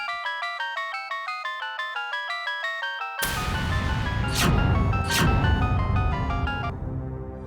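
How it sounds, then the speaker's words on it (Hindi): A melodic electronic ringtone plays in a repeating pattern, then gives way to louder music with two sharp whooshing swells. "ठीक है, तो लगाइए उर्वशी को फोन"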